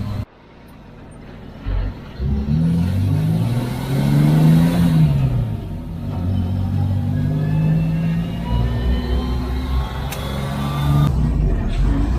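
Mercedes-Benz Unimog trucks drive along a road, a loud steady diesel rumble that climbs and falls as the engine revs through gears, heard close and continuous without talk.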